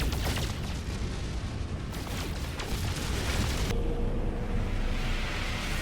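Asteroids are shot in space while mining in the video game No Man's Sky, with dense, continuous blasting and booming noise filling the whole stretch at steady loudness, with no talking.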